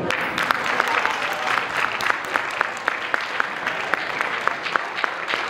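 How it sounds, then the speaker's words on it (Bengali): An audience at a school cultural celebration in Bangladesh claps for the parents, a steady crowd of hands with distinct nearby claps popping rhythmically through the wash, continuing evenly without talk. "তাদের জন্য একটা করতালি"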